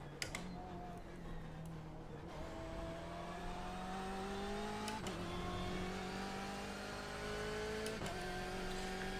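Race car engine in iRacing at Le Mans, pulling through long gears with pitch climbing steadily, punctuated by a few sharp upshifts, loud and continuous with no voices.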